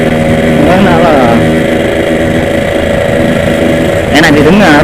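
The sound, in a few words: Yamaha RX-King motorcycle engine and exhaust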